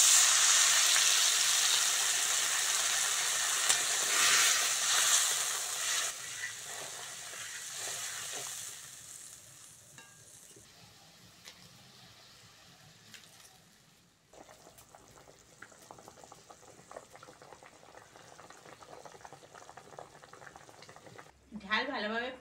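Fish curry gravy with potatoes, onion, salt, turmeric and chilli powder in water bubbling in a pan, a steady sizzling hiss that is loud at first, then quiets to a soft simmer with faint bubbling and a brief clatter at the end.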